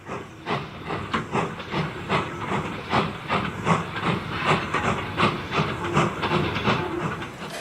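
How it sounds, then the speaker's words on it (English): Steam trains rattling through an engine shed: rhythmic chuffing bursts of steam hiss repeat steadily and closely, layered with rail clatter, with no voices. "All those trains rattling through."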